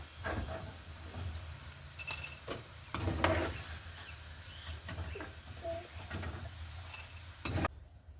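Eggplant pieces frying until brown in a pan, heard as a faint, low sizzle broken by occasional scraping stirs and light clinks of a utensil against the pan.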